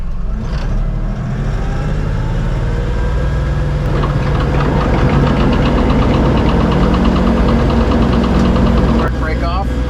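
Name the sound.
tractor engine revving with PTO running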